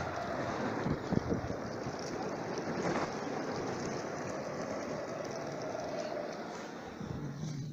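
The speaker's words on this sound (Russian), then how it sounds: "Вот что мотор электрический животворящий делает." Electric outboard motor pushing a boat across open water on a winter fishing trip, a steady broadband hum and wash with wind buffeting the microphone throughout, no talk.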